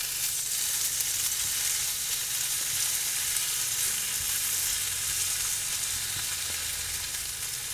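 A corned beef Reuben sandwich toasts in a hot pan, giving a loud, even, unbroken sizzle throughout with no talking.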